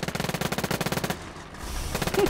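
Machine gun firing in the video game Gates of Hell: rapid, evenly spaced bursts of loud shots, a short pause, then another burst, with no talking.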